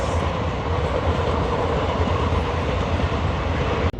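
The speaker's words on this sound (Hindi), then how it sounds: "सामने आई दोस्तों की साबरमती दिल्ली जोधपुर एक्सप्रेस" The Sabarmati Delhi Jodhpur Express rolls past close by with a loud, continuous rumble and rattle of railcars and wheels lasting throughout.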